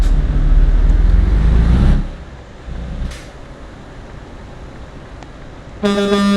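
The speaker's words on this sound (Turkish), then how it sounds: "Şöyle de bir kornamız var. Havalı kornamız." Truck in Euro Truck Simulator 2 idling with a loud low engine rumble that cuts off, then a quiet stretch before a short, bright tonal air horn blast at the very end.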